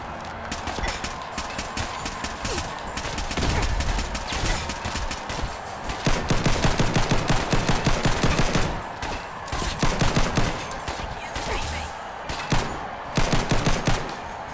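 Gunfire in Fallout 4, bursts of rapid automatic shots and single cracks recurring throughout, loud and close, with brief pauses between volleys.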